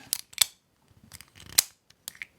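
Several short, crisp clicks and scrapes from an acrylic fidget slider being slid, in quick bursts, close up, with quiet gaps between them.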